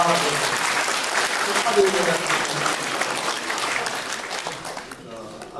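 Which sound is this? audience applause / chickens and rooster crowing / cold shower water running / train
audience applause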